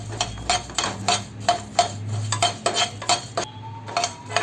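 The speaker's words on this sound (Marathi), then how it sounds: "आता आपण हे धणे पण असेच भाजून घेऊया." Coriander seeds being dry roasted in a pan, a rhythmic run of close scraping and rattling strokes from a utensil against metal, repeating about every third of a second.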